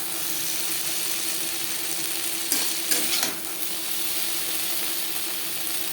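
Whole cumin seeds and bay leaves fry in hot oil in a wok, giving a steady close sizzle throughout with a few brief crackling bursts midway and no talk.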